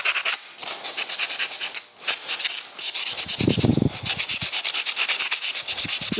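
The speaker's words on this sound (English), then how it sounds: "the panels or these pieces are all clean and we can go ahead and sand them" Clean 22-gauge sheet metal panels being sanded for a custom AWD 1951 Infiniti Shoebox body swap, a steady rhythmic scrubbing rasp of repeated close strokes with a brief heavier thump midway.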